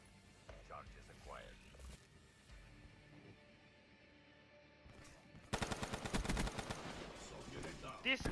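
Automatic gunfire from a weapon in Black Ops 3: after quieter game sounds and faint talk, a loud, rapid burst of shots begins midway and continues in a dense rattling stream to the end.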